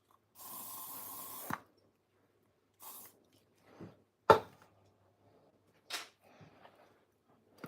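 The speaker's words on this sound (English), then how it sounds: "Hairspray does the job really well." Cheap aerosol hairspray is sprayed onto a mixed-media artwork with beads and glitter, giving one long close hiss followed by a few short, quieter spritzes and small handling noises.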